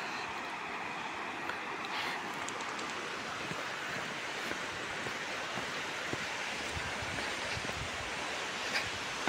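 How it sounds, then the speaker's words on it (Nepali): A river flows nearby with a faint, even rushing hiss that holds steady throughout, a few soft clicks scattered over it and no talking. "खोला नजिकै छ है"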